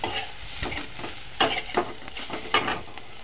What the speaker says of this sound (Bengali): এক চামচ জিরে গুঁড়ো দিয়ে নাড়াচাড়া করবো।